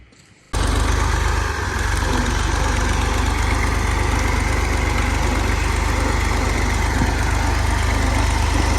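A Fiat 480 tractor in Pakistan starts up after a brief quiet moment, then runs at a steady, loud, close idle with a constant rhythmic chug and vibration, and no voices.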